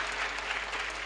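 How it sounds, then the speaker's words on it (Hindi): A school audience claps to open the cultural programme at an annual function, a short burst of many hands heard softly over a low steady hum. "जोरदार तालियों के साथ हम आगाज करते हैं"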